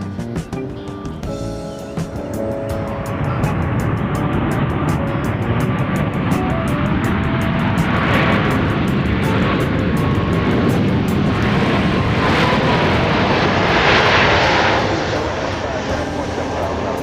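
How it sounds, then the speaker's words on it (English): A Boeing 737 Max 8 airliner arriving at Dallas Love Field swells into a loud, sustained jet roar that builds and holds for several seconds, with talk heard early on. "Max 8, Flight 18, coming in from Houston Hobby"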